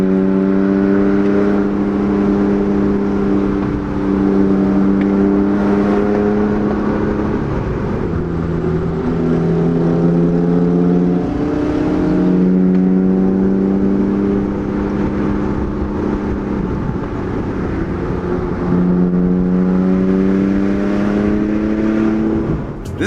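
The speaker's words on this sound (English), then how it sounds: "The Porsche 912 is ripping." A Porsche 912 engine drones and revs while driving, pitch rising and falling through several gear changes, steady and fairly close.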